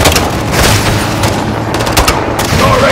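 Continuous dense gunfire and booming blasts from a Call of Duty Modern Warfare 2 campaign battle, loud and sustained throughout with no clear gaps.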